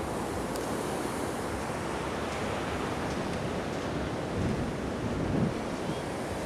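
Night surf washes onto the beach at Myrtle Beach as a steady, broad roar, mixed with wind buffeting the microphone, swelling slightly near the end as a wave breaks.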